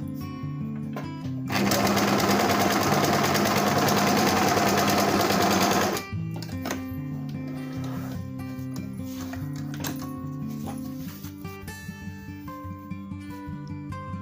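A home sewing machine stitches in one loud, steady, fast-running burst lasting several seconds after its upper thread tension is tightened, with quieter background music playing before and after.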